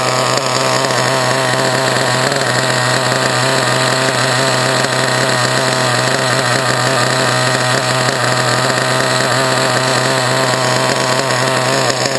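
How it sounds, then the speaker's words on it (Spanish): A small radio-controlled model engine idles after carburetor tuning, giving off a steady, high-pitched buzzing drone. It is close and loud, runs unbroken throughout and has no talk over it. "el ralentí, en este caso, se me empieza a mantener ya un poquito más alto."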